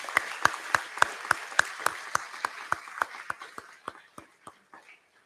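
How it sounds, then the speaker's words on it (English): Graduation ceremony audience at an American school in Taichung applauding graduating parents, with a steady rhythmic beat of sharp claps over a softer crowd wash that gradually thins and fades toward the end. "Can we please give a big round of applause for our parents, graduating parents?"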